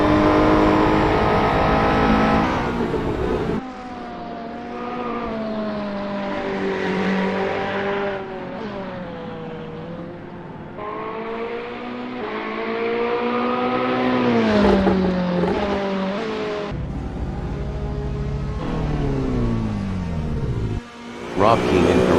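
A Ferrari 488 GT3 race car engine sweeping up and down through the revs, with rising pitch on acceleration and sharp drops on gear changes, loud and sustained with brief cuts between passes; a commentator speaks over parts of it.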